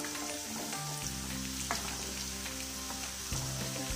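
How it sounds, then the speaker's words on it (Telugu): Sliced onions with a little turmeric frying in a pan for gongura chicken, giving a steady, close sizzle with faint crackles and occasional stirring scrapes, no voices. "మనకి ఆనియన్స్ అనేది ఇలాగ ఫ్రై అవ్వాలి."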